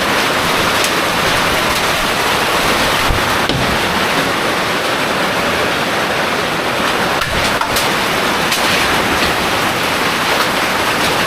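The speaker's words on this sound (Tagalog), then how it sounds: "Tumakas na ang ulan, nabutan ng ulan." Dense, loud storm rainfall pours steadily, a constant wash of hiss and roar with occasional faint knocks beneath it.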